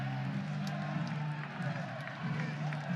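Baseball crowd at the Norman Regional, UConn versus Oklahoma, cheering and clapping steadily in a dense, continuous roar throughout, with stadium ambience and no distinct voices standing out.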